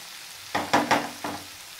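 Maggi noodles stirred in a frying pan, a few quick scraping strokes in a short burst of four soft rustling pushes, with quiet between them.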